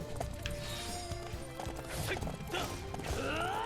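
A horse clip-clops in the video game Samurai Warriors 5, its hooves beating a quick steady rhythm alongside whinnies and clattering battle effects, all close and fairly busy.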